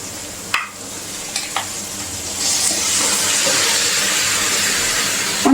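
Rooster meat is tipped into hot spiced oil and stirred, giving a few clanks of the utensil followed by a loud, steady sizzle and hiss of frying.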